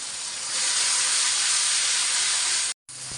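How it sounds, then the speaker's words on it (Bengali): Chili and cumin paste hits hot oil after fried onions, producing a loud, continuous hissing sizzle that swells after a moment, cuts out briefly near the end, then resumes. "এখন সুন্দর করে একটু তেলের উপরে মরিচটা ভাইজে নেব"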